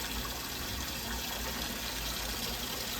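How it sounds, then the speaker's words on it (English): Water poured steadily into a pot of black-eyed peas to cover them, a continuous soft gushing, splashing fill at low level, close by and heard alone without talk. "now we're gonna go in here with the water. Cover these peas all the way up there"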